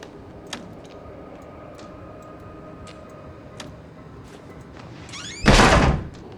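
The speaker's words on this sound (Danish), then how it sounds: "Det var ikke meningen, at jeg skulle smække døren." Door slamming in the horror video game Outlast, one loud heavy bang near the end after a few faint ticks and clicks over a low ambient hum.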